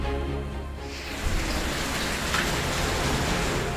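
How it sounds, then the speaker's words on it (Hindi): Heavy monsoon rain pours down in the mountains of Dharchula, Pithoragarh, in late August, a dense, loud, continuous hiss with a rumbling low-end roar and no voices. "अगस्त के आखिर में पहाड़ पर बारिश मुसीबत बनकर बरस रही है।"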